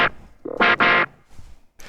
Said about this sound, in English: I'm just adding some distortion to the clav and some auto wah responding to velocity.